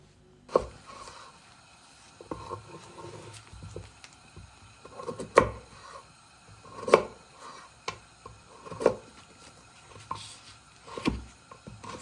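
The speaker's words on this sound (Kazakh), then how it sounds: "Бірінші сәбізімізді турап, солонка етіп турап аламыз." A knife chops carrots into thin strips on a cutting board in a home kitchen, sharp, separate knocks at an uneven pace, close and fairly quiet, with no talking.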